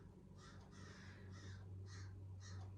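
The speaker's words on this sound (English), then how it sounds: "I don't know if you could hear the crows in the background" A crow caws five times in a loose rhythm, the calls moderately distant and clear over a faint constant hum.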